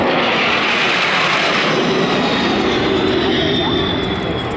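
A large military aircraft with four 40,000-pound-thrust Pratt & Whitney jet engines roars at an air show, a loud continuous broadband jet rush with crowd noise beneath.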